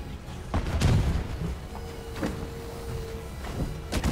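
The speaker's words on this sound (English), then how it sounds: "Oh god, he threw a grenade at me." Grenade blast in Marvel's Avengers, a few sharp booming impacts and thuds amid busy game combat noise, moderately loud with no talk over it.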